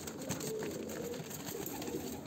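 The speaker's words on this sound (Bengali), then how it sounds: "10টা পায়রা আছে।" Ten pigeons, five males and five females, kept in a cage, give low, soft cooing against a constant background hum.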